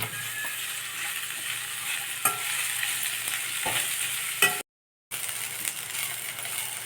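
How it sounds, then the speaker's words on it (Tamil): Bitter gourd sautéing in plenty of oil for tamarind kuzhambu, a steady close sizzle with occasional spatula scrapes and clinks, cut by a brief gap of silence near the end. "நல்லா எண்ணெயில் நல்லா இந்த அளவுக்கு நம்ம வதக்கிடணும்."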